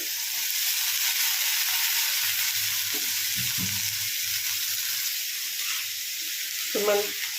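Brinjal pieces, soaked in salt water, sizzle in a hot pan for a tomato curry, a steady close hiss broken by a few stirring knocks and scrapes.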